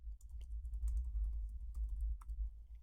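Typing on a computer keyboard while searching a product site: quiet, irregular clicks of individual keystrokes in short bursts over a low steady background hum, with no talking.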